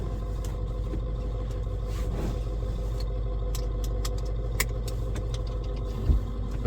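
A Ford F250 7.3 Powerstroke diesel pickup engine idles with a steady low rumble, joined by occasional faint clicks and a light knock near the end.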